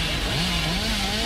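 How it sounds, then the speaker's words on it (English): The Hillbilly's chainsaw in Dead by Daylight revs with a continuous buzzing engine drone that rises and wavers in pitch, loud and steady throughout the short stretch, with no talk. "My chainsaw is gonna overheat."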